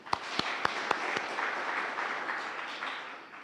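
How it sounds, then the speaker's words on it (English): A crowd at a project closing event breaks into applause, opening with a few sharp, separate claps before settling into a steady, even wash of clapping that holds for a few seconds and then thins slightly. "let's congratulate ourselves by a round of applause"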